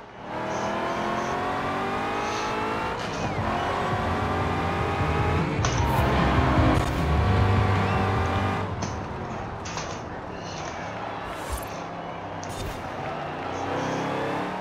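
A heavily modified car engine revs and roars continuously during a race in Forza Horizon 4, loud and close, with shifting pitch as it accelerates through gears.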